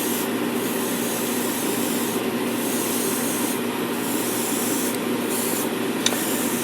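White touch-up paint is airbrushed onto a 1/144 Bandai Millennium Falcon model, a steady close hiss of spray that holds constant, with the pitch of the air shifting slightly in a few short pulses.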